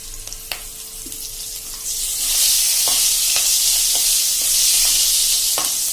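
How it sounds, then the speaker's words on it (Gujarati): Green and dry chillies fry in hot oil while cooking moong dal, starting with light crackles and a few taps, then swelling into a louder, continuous sizzle up close. "અને લીલા મરચા ક્રકલ થાય એટલે હવે એમાં આપણે 2 સૂકા મરચા પણ નાખી દેશું"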